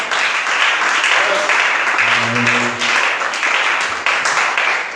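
A church congregation applauding, a steady loud wash of many hands clapping together, with a voice briefly rising over the clapping midway.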